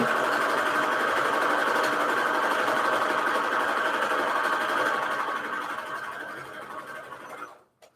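A sewing machine stitches a Christmas fabric journal cover stiffened with Peltex 72F, running in a steady, close, continuous whir that slows and trails off near the end before stopping.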